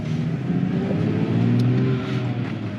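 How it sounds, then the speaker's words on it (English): A car pulls away on a road at night, its engine rising in a close, loud, steady drone for a few seconds with nothing else heard. "So now, let's go for a drive."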